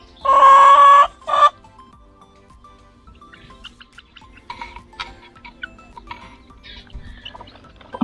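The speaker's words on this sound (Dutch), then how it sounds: "daar wordt zijn hokje onderzocht door een andere kip" A loud, short squawk from a hen opens, followed by quieter scattered clucks and small scratching noises in the background.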